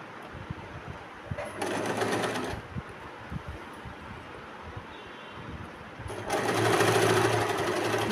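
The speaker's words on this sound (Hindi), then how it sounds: "और इस तरफ भी इसी तरह से 5 इंच तक हमें सिलाई लगानी है," A sewing machine stitches petticoat fabric in two loud bursts of rapid whirring, close by, with quiet room noise between the runs and no talking.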